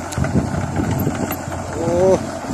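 A Kubota KX91-3 excavator engine runs below full throttle with a low, steady hum, and a brief rising whine near the end.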